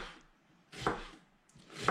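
Two separate knife strokes cut through onion on a board. Each is a short, quiet crunchy chop with a pause between, heard close up in a home kitchen.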